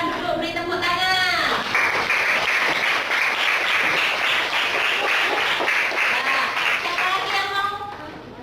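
Applause fills a classroom during an integrated teaching simulation by university students, a loud, steady wash of clapping from a group with voices chattering over it at the start and end.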